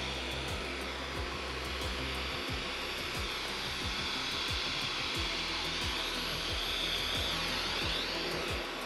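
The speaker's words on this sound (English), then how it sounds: "we're going to see this vacuum cleaner in action now" A Dyson vacuum cleaner runs continuously with a steady whining drone, close by and fairly loud, with occasional low bumps as it moves.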